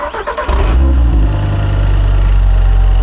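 A used hot hatch car engine starts up with a short crank, then settles into a loud, steady idle rumbling close by.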